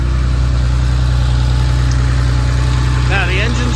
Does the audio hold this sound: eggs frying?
no